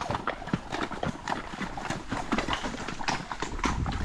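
A horse's hooves clip-clop in a quick, steady rhythm close by on a trail near Sochi, with rustling and movement noise mixed in.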